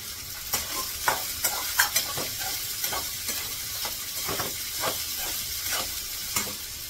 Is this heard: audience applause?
no